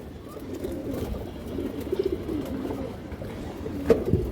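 Old-bloodline pigeons on a farm give soft, low cooing calls that rise and fall in short rolls, a few birds nearby and moderately quiet, with a brief sharp knock near the end.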